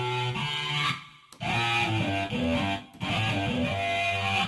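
A vocal sample distorted to sound like an electric guitar plays in loud sustained bursts with short gaps, gritty and buzzing like an overdriven guitar.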